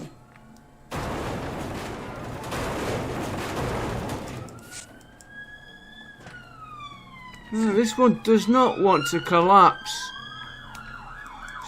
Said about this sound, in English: Excuse the noise of the sirens going past.